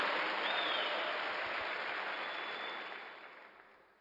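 A church congregation applauding during a Sunday service, a broad wash of clapping that starts full and slowly fades away over several seconds.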